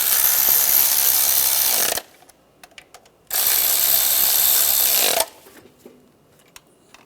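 Bolts on a bracket being run down with a power ratchet during an intake gasket job on a 1996-2002 Toyota 4Runner, two loud sustained whirring bursts of about two and three seconds, separated and followed by quiet clicks and handling.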